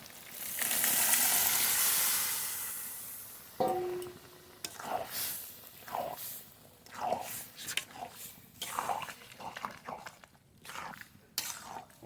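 Boiled peas and potatoes with their cooking water go into hot masala for mutton-fat ghugni, a loud sizzling hiss that fades into softer bubbling and a few stirring scrapes.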